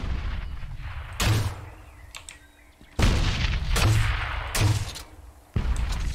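Guns are test-fired in the video game The Cycle, heard as loud, close bursts of gunfire and booming shots separated by short pauses, with no voices over them.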